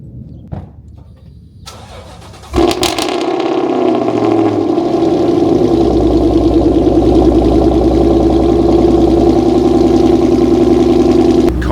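After a few quiet seconds, a loud car engine starts abruptly and settles into a steady, droning idle that continues close and unbroken to the end.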